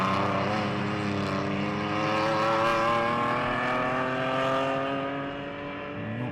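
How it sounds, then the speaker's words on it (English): A BMW race car at a classic-car race meeting on the Jarama circuit roars past close by, its engine note loud and sustained with rising harmonic tones as it accelerates, fading slightly at the end. "I only heard the BMW nearby."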